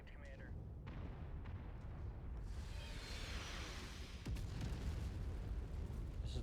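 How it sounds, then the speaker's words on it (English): Artillery booms and explosions rumble through a MechWarrior 5 battle, heavy low thuds and bursts layered over constant mech and battlefield noise, with a sharper blast about two-thirds of the way in. "Fucking artillery is so stupid."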